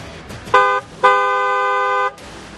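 Car horns honk in traffic amid Delhi's polluted air: a short blast, a brief pause, then a longer sustained honk, loud and close.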